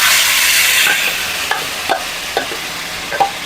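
Chicken pieces tipped into a pan of browned onions over a lowered flame, then stirred: a steady close sizzle with a run of sharp scraping knocks from the spoon against the pan, no voices.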